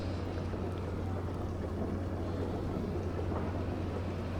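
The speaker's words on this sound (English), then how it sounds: "So I'm going to park the tractor up here." Low steady engine drone of a tractor in Farming Simulator 25, a constant hum held evenly throughout with no breaks or changes in pitch.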